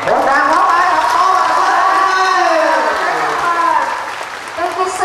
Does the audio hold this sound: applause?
yes